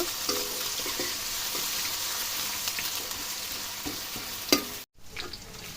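Onions fry quietly in a pan while they brown, with a soft continuous sizzle and a few light stirring scrapes near the end, followed by a brief silence.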